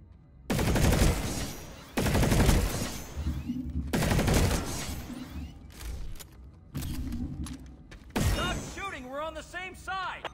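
Video game gunfire during a training mission: several loud bursts of rapid shots arrive in separate volleys with brief pauses between them, and a voice comes in near the end.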